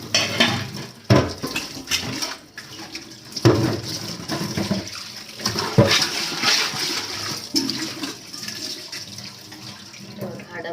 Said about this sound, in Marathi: आता धुवून घेते तेव्हा एकदम नवीन चकचकीचा